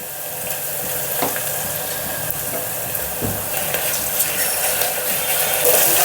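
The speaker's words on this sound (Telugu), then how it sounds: "అల్లం వెల్లుల్లి పేస్ట్ స్మెల్ పచ్చివాసన పోయే వరకు కొంచెం ఇట్లా ఫ్రై చేసుకోవాలి" Ginger garlic paste frying in a pan for a yellow cucumber moong dal curry, a steady close hiss and sizzle throughout with occasional soft clinks and stirring scrapes.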